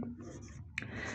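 Chalk or marker scratches briefly across a classroom board during a science lesson, soft and close with a small tap partway through.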